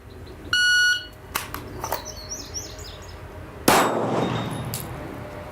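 At a gun range, a shot timer gives a short electronic beep, followed a few seconds later by a single sharp pistol shot that rings out over faint background sounds.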